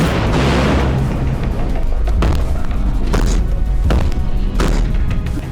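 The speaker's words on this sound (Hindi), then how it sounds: "किम के सामने रशियन नेवी ने मिसाइलें फायर की," A Russian navy missile launch at sea sounds as a loud continuous roar broken by several heavy booming thuds at intervals, with no one talking over it.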